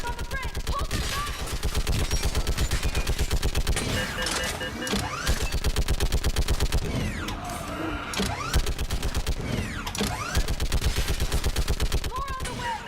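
Mass Effect 3 combat on Thessia, with sustained rapid automatic gunfire pounding in a dense, nearly unbroken stream for the whole stretch, loud and close, with brief mechanical whines in between.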